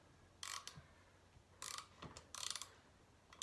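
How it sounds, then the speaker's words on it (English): Threaded rod being turned to draw a star nut down into a bike steerer tube during a build, heard as a few separate bursts of ratcheting, scraping metal with quiet gaps between them. "to turn the threaded rod"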